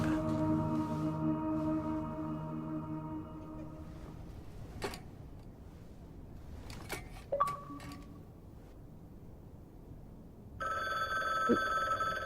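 A telephone rings in the video game The Book Walker: Thief of Tales, a sustained electronic bell tone that stops, followed by scattered clicks and clacks, then a brighter ring resumes near the end; no voices.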